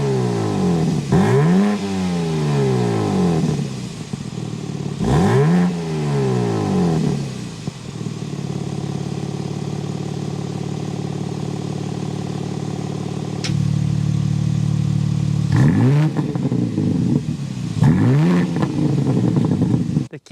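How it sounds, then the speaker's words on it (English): A 2026 BMW M4 Competition Convertible with the S58 engine starts up and revs repeatedly. Sharp rising-and-falling blips of the exhaust alternate with a rumbling idle, loud and close, with no talking. "start it up, so you can hear that S58 engine exhaust note"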